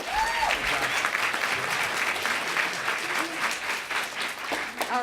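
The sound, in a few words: audience applause for senator and representative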